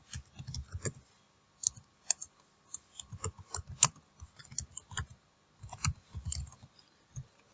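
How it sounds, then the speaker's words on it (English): Fingers tap quickly on a computer keyboard in short irregular runs of close, light clicks with brief pauses between bursts, no talking. "So I'll just quickly type that information."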